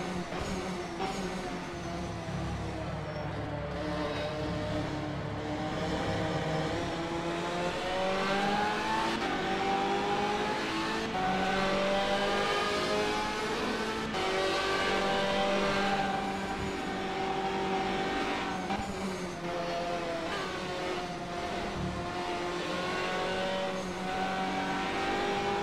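Racing cars, including a Ferrari, roar around the Nordschleife in a GT racing video game, with engine tones sweeping up and down through gear changes, a steady loud drone of several cars passing without pause.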